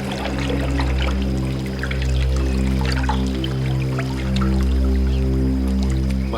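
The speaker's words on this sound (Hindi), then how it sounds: "सचिन रेडी, पी लो पानी।" Water poured continuously for drinking, a steady close trickle and splash running throughout over a constant low hum, with no voices.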